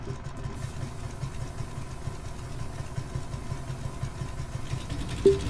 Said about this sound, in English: both engines got a good start